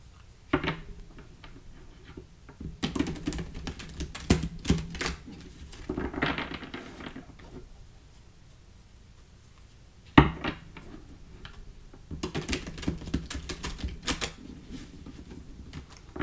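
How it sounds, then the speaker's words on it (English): Bursts of rapid papery riffling and flapping as tarot cards are shuffled, several separate rounds with quiet pauses between, close and moderately loud. "Okay, two more shuffles"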